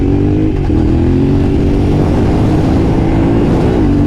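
A Yamaha Tenere 700 motorcycle engine runs loud and close, holding a steady, throaty rev with slight rises and dips throughout and no voices over it.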